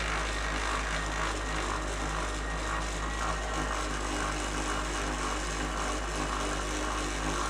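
Buffing pad working rubbing compound over a clear coat run on a 1971 Honda CB350, a steady continuous whirring polisher hum with broadband grinding texture, close and constant throughout without any talk.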